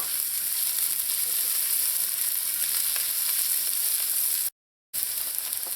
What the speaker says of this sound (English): you're gonna add in the onions, and you're gonna saute the onions until they start to turn a light brown color